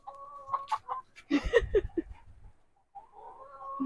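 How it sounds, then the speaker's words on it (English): Chickens cluck and squawk inside a crowded coop of about forty birds, with several sharp close calls bunched in the middle, brief quiet, then more clucking near the end. "There's probably 40 chickens in here."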